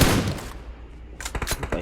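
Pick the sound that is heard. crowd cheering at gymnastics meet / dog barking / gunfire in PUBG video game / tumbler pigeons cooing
gunfire in PUBG video game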